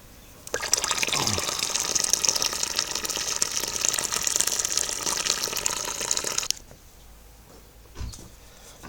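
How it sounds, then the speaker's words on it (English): About 7 litres of hot mash-out water are poured into the mash of a cream ale brew. A steady splashing gush runs for about six seconds and then stops, followed by a single soft knock in the quiet. "That's the mash out water added."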